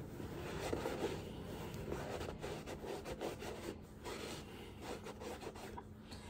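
Makeup is rubbed off a hat, producing continuous close scrubbing and rasping friction strokes at a steady pace, with no voices.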